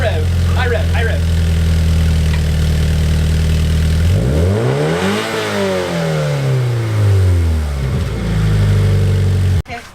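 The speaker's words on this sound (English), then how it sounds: "Give it a rev. Give more rev. High rev. High rev." Toyota GT86 with an Invidia exhaust revving hard, engine pitch sweeping up and falling back in repeated blips after a steady idle, loud and close, with brief speech at the start.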